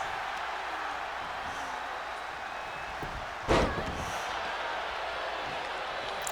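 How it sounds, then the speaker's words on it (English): A wrestler's head is slammed into the ring canvas in the WWE 2K22 wrestling video game, one sharp thud over a constant crowd roar. "Oh, just slamming her head right into the canvas."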